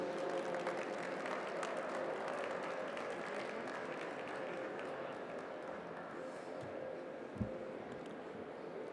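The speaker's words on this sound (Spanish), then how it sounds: "recibamos con un fuerte aplauso a Tomás Mejía." A conference room full of people applauding, steady clapping with faint crowd murmur mixed in, and one brief thump near the end.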